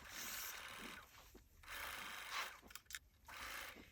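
A sewing machine runs a seam along the edge of a fabric bag in several bursts of quiet, rapid mechanical whirring with short pauses between them and no talking.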